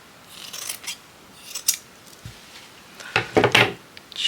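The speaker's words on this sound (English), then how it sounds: "Just a little snip" Scissors make several short, crisp snips through folded fabric: a pair early on, another pair near the middle, then a quick cluster of cuts at the end. The sound is close and clear with quiet pauses between.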